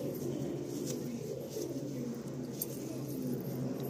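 Pigeons coo steadily in a breeding loft, a low continuous murmur from many birds close by, with faint rustling and a few light clinks over it and no voices.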